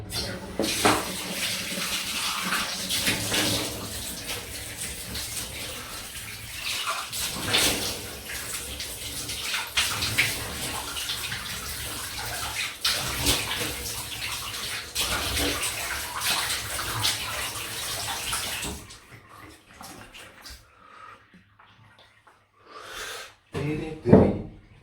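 Water runs steadily from a tap while a razor is rinsed after shaving, a constant hiss and splash for most of the stretch that then cuts off, leaving a few quieter splashes near the end.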